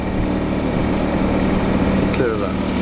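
A motorboat's engine drones steadily close by a sailing dinghy cruising out of the River Frome into Poole Harbour, heavy and continuous under wind and water noise, with a voice talking over it.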